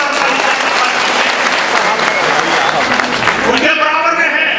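Loud, dense applause from a crowd at a district-level community conference, welcoming the district president, Mohammad Mansoori, a thick continuous roar of clapping that drops away near the end as a voice begins.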